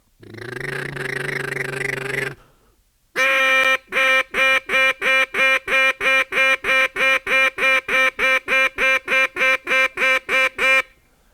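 A competitor in a world championship duck calling contest voices a long droning quack, pauses, then fires off a rapid, loud run of about twenty evenly spaced duck quacks, clear and close. A human voice imitates the ducks.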